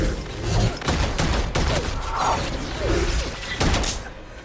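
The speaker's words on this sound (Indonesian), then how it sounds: "Smith melepaskan tembakan bertubi-tubi." Rapid bursts of gunfire in a film action scene, loud sharp shots fired in quick succession amid thuds and impacts, with no talking.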